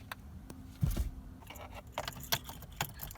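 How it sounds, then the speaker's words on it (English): Car keys jangle as they are grabbed before testing a newly replaced wiper fluid motor on a 2006 Chevrolet Impala LS, giving a few short metallic clinks and rattles at close range with no talk. "grab my keys"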